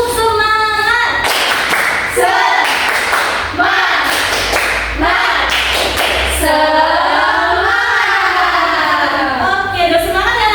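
Schoolchildren in a primary classroom perform a rhythmic spirit clap, sharp clap bursts alternating with loud chanted group voices, the clapping and chanting interleaved in a lively pattern.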